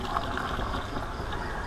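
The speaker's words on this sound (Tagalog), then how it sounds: "Tapos pupunuin na ng tubig yung sprayer." Water runs steadily into a sprayer tank in a rice field, a brief, muffled, even gush of filling liquid heard close by with no talk.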